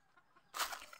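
A chicken in a home garden gives a short, faint burst of clucking after a quiet moment, heard once against low background noise.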